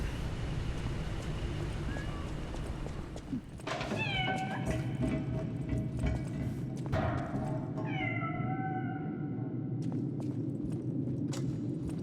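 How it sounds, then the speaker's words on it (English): A cat in the video game Lies of P meows twice, a few seconds apart, each call clear and drawn out over a low windy ambient background. "Kitty cat."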